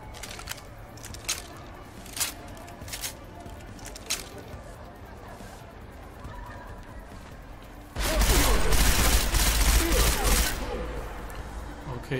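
Machine gun fire in Deus Ex: Mankind Divided, scattered sharp shots early on, then a loud, sustained burst of rapid fire lasting several seconds, with speech mixed in.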